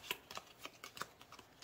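Paper cash envelopes or cards being shuffled for a cash stuffing challenge, a quick series of soft crisp flicks and riffles, close and quiet, with no talking.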